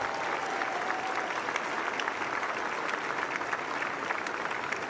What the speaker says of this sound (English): if you would, please give them a huge round of applause